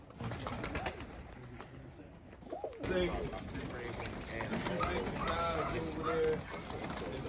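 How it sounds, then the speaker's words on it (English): Bowden tippler pigeons coo in a loft, low repeated coos rising loud and close, with people talking over and among the birds. "These are all Bowden birds right here."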